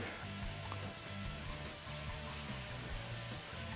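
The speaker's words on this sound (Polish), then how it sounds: "No i teraz, drodzy Państwo, mamy tutaj smażenie." Pork tenderloin frying in clarified butter in a pan, a faint, even sizzle that carries on steadily with no talk over it.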